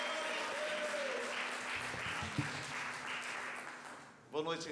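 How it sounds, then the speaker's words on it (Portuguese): Sustained applause from a church congregation welcoming the pastor fills the room at moderate distance, fading out near the end as a voice begins. "Louva o Senhor com as suas palmas, recebendo o pastor."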